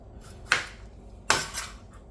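A knife cuts through a cucumber into round slices, giving two crisp, close chopping knocks against a board about three-quarters of a second apart, each with a short fading tail, and no talk.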